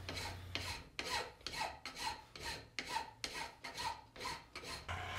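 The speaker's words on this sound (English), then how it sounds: "you can clean this up with a file" Hand file rasping across a metal knife maker's center scribe held in a vise, about ten rhythmic back-and-forth strokes, close and quiet.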